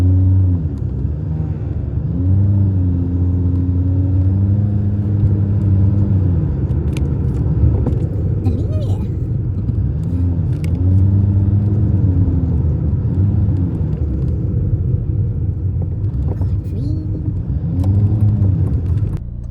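A car driving on a road in England toward a Lidl store, with steady low engine and road rumble, close and continuous throughout, no talk.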